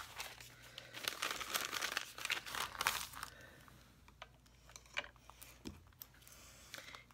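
Pretty gift paper being handled, with crisp crinkling and rustling bursts that are busiest early on and then thin into sparser, scattered crackles, close and fairly quiet with no talk.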